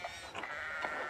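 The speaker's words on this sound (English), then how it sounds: "One of the fence rails fell and the sheep started hopping it." A pair of short, wavering sheep bleats from a farm flock in Pentiment, fairly soft and close together, with no voices.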